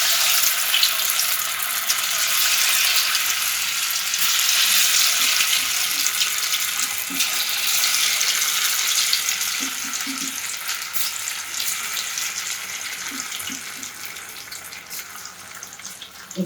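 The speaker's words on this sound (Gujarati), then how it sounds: "અને આપણું તેલ આવી ગયું છે અને આપણે તળવાની શરૂઆત કરીશું." Small sprout pakodas fry in hot oil with a loud, steady, crackling sizzle that fills the whole stretch and eases slightly toward the end, with no voices over it.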